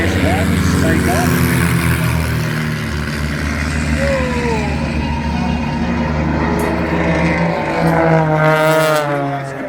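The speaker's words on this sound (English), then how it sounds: "Now pulling up into what's called a half Cuban as aircraft 1 and 2, the little S1s, take off." Propeller aerobatic aircraft at an airshow pulling up into a half Cuban while small S1 biplanes take off, a continuous loud engine drone with shifting pitch, heard under a commentator's voice throughout.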